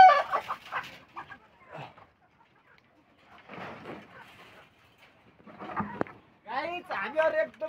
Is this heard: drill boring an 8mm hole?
no